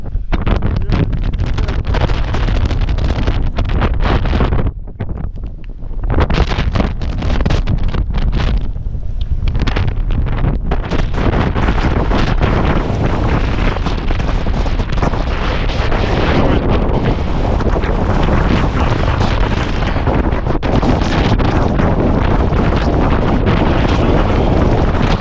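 Strong storm wind batters a wild camp in the Peak District with a Hilleberg Staika BL tent, a loud continuous roar and buffeting across the microphone with only one brief lull.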